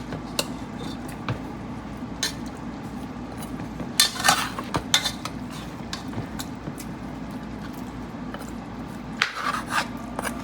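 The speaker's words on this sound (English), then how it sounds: "Basting the pork, basting it." Brown stew pork being basted in a pot for a Jamaican dish, with a steady run of spoon scrapes and metallic clinks against the pot over a low simmering background.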